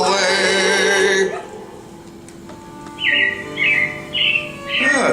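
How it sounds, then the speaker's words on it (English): Robins chirp in bright, short bursts at moderate distance, three or four quick calls in the second half after music fades, with a lingering ambient hum underneath. "it looks like the Robins are getting ready to celebrate Valentine's Day today"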